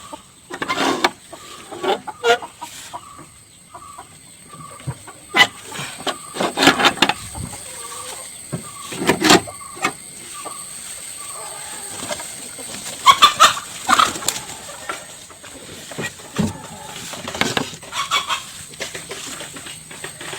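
Backyard hens, including BV-380 layers, with chicks in a small flock, giving intermittent clucks and a run of rhythmic repeated calls, with sharp nearby bursts and scratching noises between quieter stretches.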